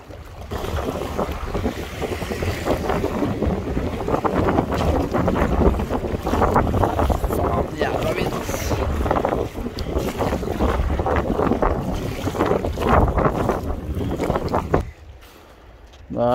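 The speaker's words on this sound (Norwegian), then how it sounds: "Faen, jævla vind." Strong wind buffets the microphone while paddling a boat on the Glomma river, a continuous roaring gust noise with low rumble, steady and loud throughout before easing at the end.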